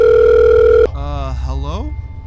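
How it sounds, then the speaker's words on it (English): A telephone rings with a steady electronic tone that cuts off sharply, followed by close speech with rising and falling pitch as someone answers the call. "It's literally ringing."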